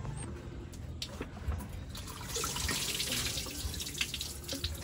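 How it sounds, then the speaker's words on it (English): Water leaks from a car radiator, a steady hissing trickle and splash that swells midway, with faint drips and background noise. "now this radiator is leaking"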